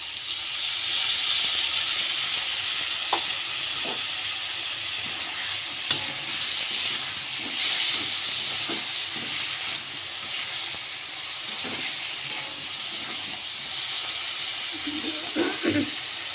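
Onion, garlic, ginger, tomato and green chili paste frying in a pan, a steady close sizzle and hiss with occasional stirring scrapes and clinks throughout.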